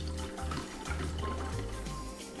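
Water running from a kitchen tap while making V60 pourover coffee, a steady close splashing stream with gurgling pulses, alone without talk.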